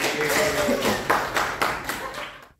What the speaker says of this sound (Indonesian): Tepuk tangan dong buat yang jawab tadi